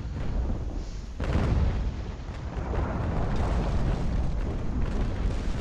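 Distant naval cannon fire rolls through a Naval Action sea battle, a continuous thunder-like rumble of booms with a heavier burst near the start, steady and dense throughout.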